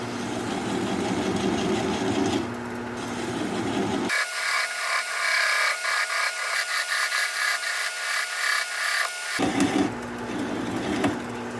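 A bowl gouge cuts a sycamore bowl on a wood lathe running at about 400 RPM. A steady motor hum is interrupted in the middle by several seconds of harsh, scraping cutting noise.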